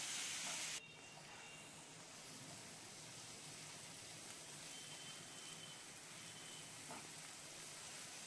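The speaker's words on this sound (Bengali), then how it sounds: "ভালো করে আমি কষিয়ে নিচ্ছি যাতে পেঁয়াজ রসুনের কাঁচা গন্ধটা চলে যায়।" Onion and garlic paste sautés in a pan for a Bengali-style chicken curry, giving a soft, steady hiss of sizzling that runs unbroken and fairly faint throughout.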